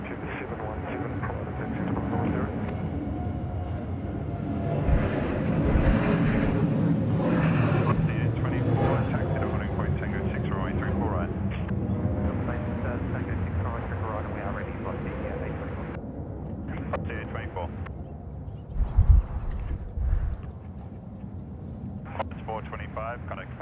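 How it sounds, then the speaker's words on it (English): A Qantas Boeing 737 rolls for takeoff on runway 34 right at Sydney Airport, a broad, steady engine roar that swells and holds for the whole stretch, with talk running over it at times. "Qantas 737 now, rolling runway 34 right"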